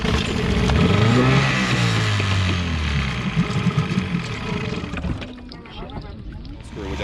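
An outboard boat engine runs loudly after a choke adjustment, a rough droning hum that shifts in pitch and then fades, with voices talking over it.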